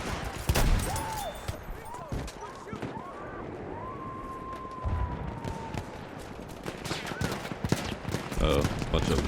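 Shotgun blasts in the World War I shooter Battlefield 1, heavy booming shots scattered among distant gunfire and battle noise, with someone talking over the action.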